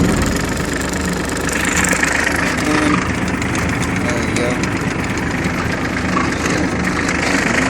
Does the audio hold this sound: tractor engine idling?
yes